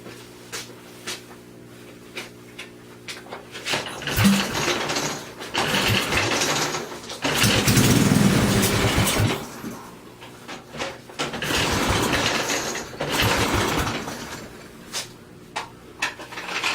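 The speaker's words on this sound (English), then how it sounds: "I threw a little bit of gas in there. Let's see if this thing starts." A methanol-fueled engine cranks on a cold start attempt, the starter whirring in long grinding bursts with pauses and mechanical clatter between, fairly loud and close, with no voices.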